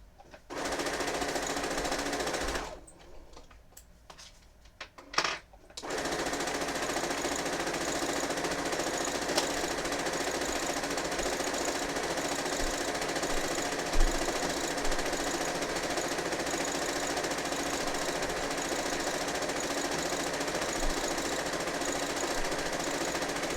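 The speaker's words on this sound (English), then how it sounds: "I'm going to take 2 and I'm going to sew them together at the same time" A sewing machine stitching quilt pieces together runs in a loud, steady mechanical whir, stops briefly for a few seconds, then carries on continuously to the end.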